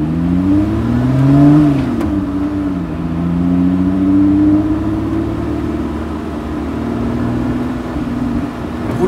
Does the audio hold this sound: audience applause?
no